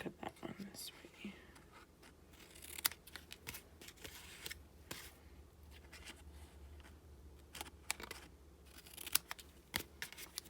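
Paper for a Stampin' Up! shark candy belly band is snipped with scissors, with a series of short, crisp cuts and faint rustling at close range and soft, quiet background noise.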